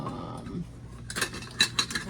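A metal spoon and other kitchen utensils clink and rattle in a short cluster of sharp metallic taps after a quiet pause, close by with no talking.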